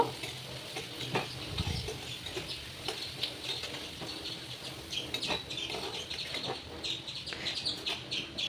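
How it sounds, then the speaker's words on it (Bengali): Parboiled potatoes fry in hot oil in a pan, giving a soft, continuous sizzle broken by scattered crackles and the scrape of turning, with no voices. "এই যে আলুগুলো দিয়ে আমি এগুলো একটু লাল করে ভেজে নেব এপিট এপিট করে।"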